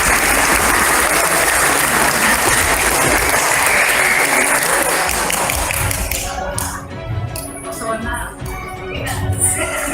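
Audience applause at a comedic religious stage event, loud dense clapping for about six seconds that then thins into scattered claps and faint crowd murmur.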